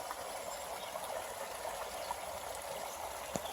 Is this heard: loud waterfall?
yes